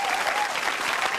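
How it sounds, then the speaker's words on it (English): Steady applause from a studio audience at the final show of a live TV talk show, a dense wash of clapping that carries on throughout. "I'd like to give him a big round of applause"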